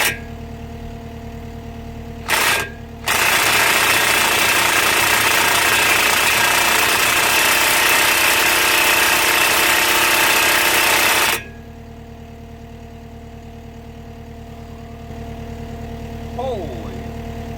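Diesel engine on a JCB machine working a mulcher attachment, running loud and heavy for about eight seconds under load before bogging down and cutting out abruptly, leaving a quieter hum behind.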